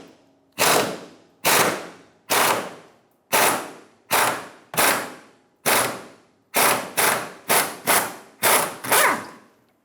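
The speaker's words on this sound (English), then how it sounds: "Using a 14mm socket, we're going to remove the bolt on the tank strap." An impact wrench with a 14mm socket removes a fuel tank strap bolt on a 2000-2006 Toyota Tundra, sounding as about a dozen loud, close bursts, each with a sharp attack and a short fade.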